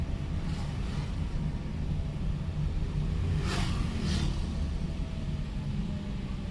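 Steady road rumble and wind roar from a car driving fast around Banda Aceh, a continuous low, dense drone holding at an even level for the whole stretch with no talking.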